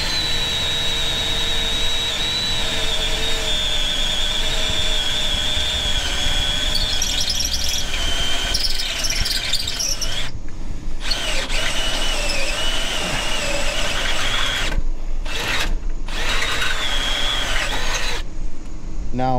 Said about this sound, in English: Now switch to the step drill in here. And I'm gonna drill that through.